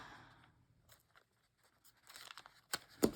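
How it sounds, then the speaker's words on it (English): Scissors trimming extra paper tab material for a DIY prayer Bible: a few faint snips and crinkling paper sounds, sparse at first and then a quick run of louder cuts near the end, close and quiet. "you could always go in and cut the extra off if you don't like it"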